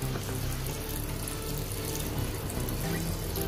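Half a glass of water is poured into a biryani pot, making a steady, continuous rushing stream that stays even and close throughout.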